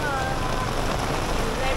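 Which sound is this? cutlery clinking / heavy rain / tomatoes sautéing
heavy rain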